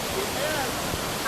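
Mother Falls waterfall in Baler, rushing water forming a loud, steady broadband roar close by throughout the short moment.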